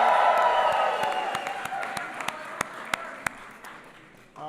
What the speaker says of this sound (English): Give Nancy a big round of applause